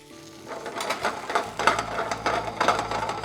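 Sauerkraut and Swiss cheese warming on a hot griddle give off a steady crackling sizzle, with scattered pops and scraping bursts from a spatula as they are flipped and spread.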